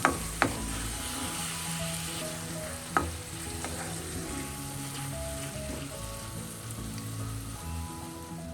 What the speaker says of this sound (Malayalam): അരിഞ്ഞിട്ടിരിക്കുന്ന തക്കാളിയും കൂടെ ചേർക്കാം. അത് ഇതോടൊപ്പം നല്ലതുപോലെ ഒന്ന് മിക്സ് ചെയ്ത് ഒന്ന് വഴറ്റാം.